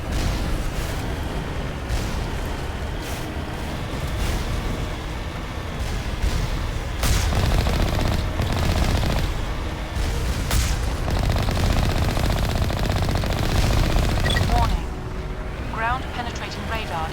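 Turret fire in the video game Mass Effect, rapid repeated gunshot bursts layered over a dense, rumbling battle din, with a voice talking over the action.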